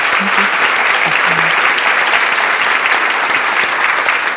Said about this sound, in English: let's give Breanne a round of applause today for her work